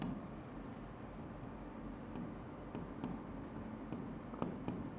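Handwriting with a pen on paper or a board, soft close scratching strokes in quick irregular bursts over faint background hiss, with no talking.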